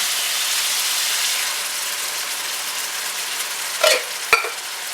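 Crushed tomatoes being stirred into a pot of ratatouille, a steady soft wet hiss and scrape for several seconds, then two brief clacks of the spoon against the pot near the end, with no talking.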